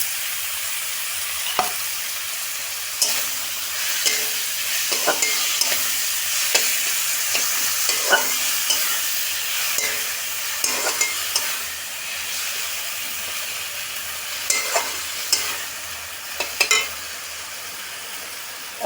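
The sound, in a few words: stirring starfruit chutney in a pan after adding sugar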